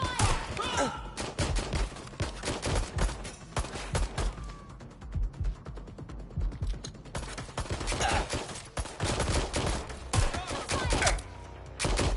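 Dense gunfire crackles through a Watch Dogs Legion shootout, with rapid volleys and scattered single shots close by, thumping almost continuously with only brief lulls. Voices shout over the firing.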